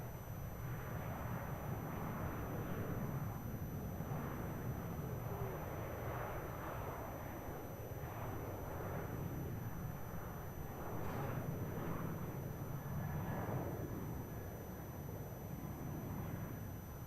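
A Velocity airliner taking off from Melbourne Airport gives a steady, loud broadband engine roar that holds at a constant level throughout.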